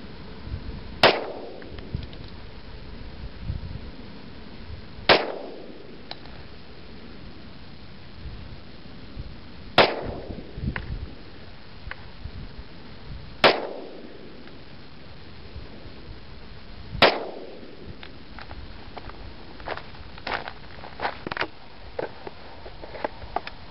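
A 10mm Glock 20 firing five rounds of 165 grain double tap bonded defense ammo, five sharp loud shots spaced about four seconds apart outdoors, with faint ticking and clatter between them.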